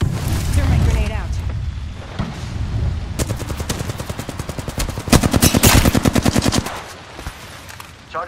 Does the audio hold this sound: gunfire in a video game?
yes